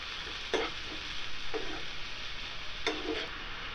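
Cut mushrooms frying in a pan with a steady close sizzle and a few scraping stirs, made while cooking a mushroom masala curry.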